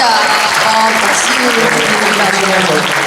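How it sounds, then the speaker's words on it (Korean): Warm clapping from a gathered audience rises and holds steady, dense and close, with a few voices mixed faintly in the background. "박수"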